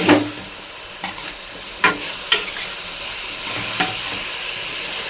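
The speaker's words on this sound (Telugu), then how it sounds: "ఇది ఇలా కలిపేసుకుందాం." Spices and raw banana pieces, coated with ginger-garlic paste, curry leaves and turmeric, are stirred in a pan, a steady close sizzle with a few sharp scrapes and knocks of the spoon and no talking.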